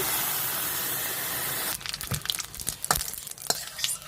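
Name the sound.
water added to frying soybeans and potato, sizzling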